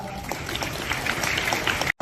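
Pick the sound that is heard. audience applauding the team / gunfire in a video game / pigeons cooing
audience applauding the team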